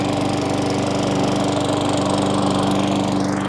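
A Briggs and Stratton E Series lawnmower engine runs steadily and close by after a service, a loud, even droning hum with a fast mechanical pulse that holds throughout, with no voices.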